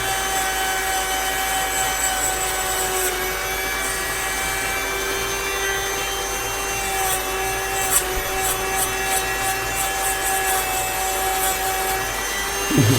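A rotary tool fitted with a brush polishes metal at very high RPM, producing a steady, loud, close whine with a constant buzzing grind that runs unbroken for the whole stretch, with no voices over it.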